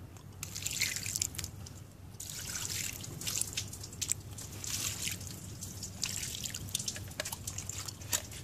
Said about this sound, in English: And I'm going to wash it with water.